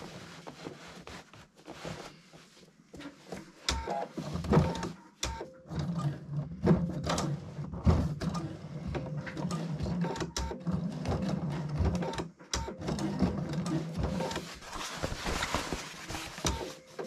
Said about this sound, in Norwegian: så skal du sy en stikning til, som da er 3 centimeter inn på jakken